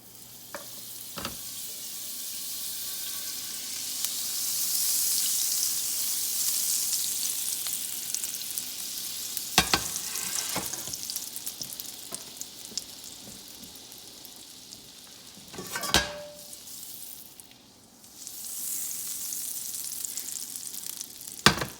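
Butter melts in a hot frying pan that has been taken off the heat, giving a steady, moderate sizzle and crackle with a few sharp clinks of utensils against the pan.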